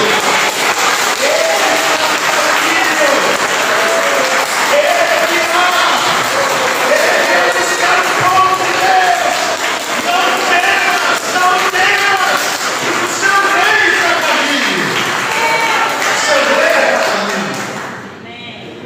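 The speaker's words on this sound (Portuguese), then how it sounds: "Eu quero que você aplauda Jesus Cristo" A church congregation applauds Jesus Christ with sustained clapping and scattered cheers, mixed with a preacher's amplified voice and background music, before the sound cuts out near the end.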